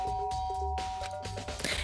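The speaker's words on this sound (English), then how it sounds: "I pressed the doorbell." A doorbell in the Danganronpa video game chimes in a short ding-dong tone pattern that rings clearly and then fades.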